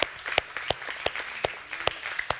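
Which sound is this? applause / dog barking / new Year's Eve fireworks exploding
applause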